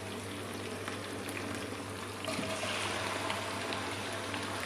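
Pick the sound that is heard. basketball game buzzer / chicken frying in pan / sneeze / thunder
chicken frying in pan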